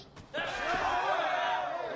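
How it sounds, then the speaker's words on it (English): Cannon fire booms in the Assassin's Creed Revelations video game, a sudden loud blast followed by a rumbling, swelling roar that fills the rest of the moment. "Cannon fire to finish them off."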